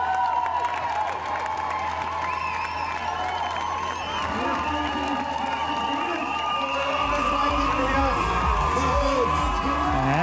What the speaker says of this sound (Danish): Men bliv endelig ved med at klappe.